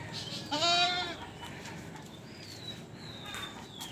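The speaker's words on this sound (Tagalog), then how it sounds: "So yung dalawang kambing natin na bago." Two newly arrived goats on a farm give one loud, close, wavering bleat, followed by fainter farmyard sounds and a thin bird chirp in the background.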